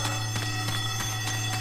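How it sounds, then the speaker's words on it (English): A repeating electronic alarm rings steadily in a Left 4 Dead 2 level, with evenly spaced pulses and a constant low hum beneath, loud and continuous with no talking. "We need to turn off this alarm!"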